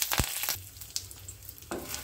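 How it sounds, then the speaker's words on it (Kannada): Curry leaves dropped into hot oil with turmeric for a catering-style tempering, giving a broadband sizzle and crackle with a sharp pop near the start and a renewed burst near the end, close and steady. "ಕರಿಬೇವನ್ನ ಹಾಕ್ತಾಯಿದ್ದೀನಿ."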